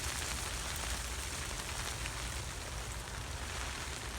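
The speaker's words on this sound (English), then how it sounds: "definitely raining now" Continuous rainfall, a constant broad hiss of drops striking a surface, unchanging and fairly close.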